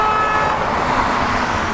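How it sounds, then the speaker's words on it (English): Car horns honk in loud city traffic, with a sustained horn tone held over a steady wash of road noise from nearby vehicles. "See, they're honking too."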